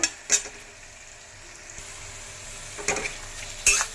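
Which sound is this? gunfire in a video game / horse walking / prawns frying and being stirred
prawns frying and being stirred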